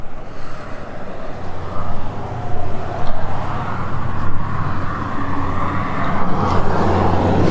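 Road traffic on a main street in Nampa, Idaho: a steady, broad rumble of passing cars, moderately loud and continuous, swelling slightly as vehicles go by, with no one talking.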